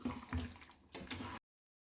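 Water rinsed from a bowl that held cashew paste is poured into a simmering potato and parwal curry, giving short splashing pours with a brief pause, fairly faint and close, with no talking.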